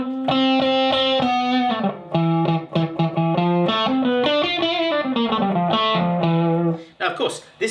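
A clean, dry electric guitar tone through an amp with only slight channel distortion and the gain off, playing a melodic line of single notes and short phrases, close and alone without talking.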